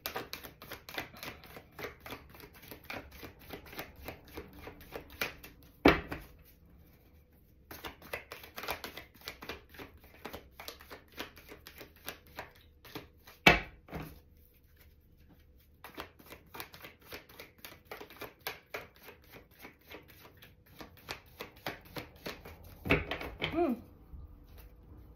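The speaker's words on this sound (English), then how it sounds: "let's get the cards shuffled here" A deck of cards is shuffled by hand in repeated bursts of rapid riffling clicks, separated by brief pauses and a few sharper knocks, close and fairly quiet, with no talk over it.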